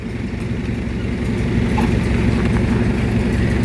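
A six-wheel truck's diesel engine rumbles steadily up close as it rolls down off a trailer, a continuous low drone that swells slightly over a few seconds, with no voices.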